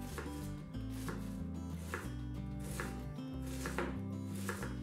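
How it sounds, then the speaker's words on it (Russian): A knife dices onions rapidly on a cutting board, steady rhythmic taps over quiet background music, no speech. "На кубики нарезаем две небольшие луковицы."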